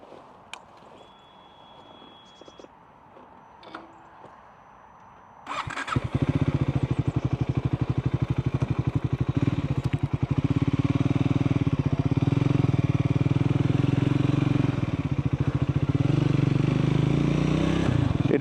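A Triumph Scrambler 400X motorcycle starts after a few quiet seconds of light handling noises, then runs loud and close with a continuous, throbbing engine note while riding.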